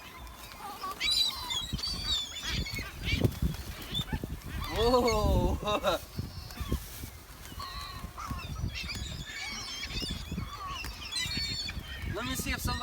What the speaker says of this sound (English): look at all of them birds coming toward us